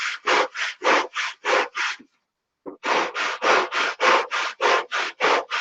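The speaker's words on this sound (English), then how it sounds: "I use a lot of 80 grit sandpaper because it's fast" A hand sands with 80 grit sandpaper in quick, even back-and-forth strokes, close and loud. The scratchy rhythm pauses briefly, then resumes at the same pace.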